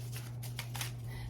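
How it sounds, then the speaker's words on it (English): Tarot cards being shuffled by hand, a quick flurry of soft riffling slaps over a low steady hum, brief and fairly quiet. "So first we're gonna shuffle."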